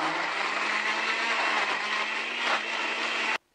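A kitchen blender grinds fruit with about a quarter glass of water into juice for a young child, a loud, steady whirring drone that holds evenly before cutting off abruptly near the end.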